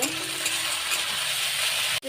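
Tomato sauce being stirred and fried in a pan for egg pasta, giving a loud, steady sizzle with scraping stirs that runs unbroken until a sudden cut near the end.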